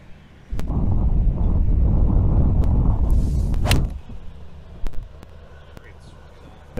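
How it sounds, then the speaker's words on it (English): Strong wind roars across an open golf course on a par-4 hole, a steady broadband rush buffeting the microphone for several seconds before easing to a lighter breeze, with a couple of brief thumps near the end. "Wind's whipping up here."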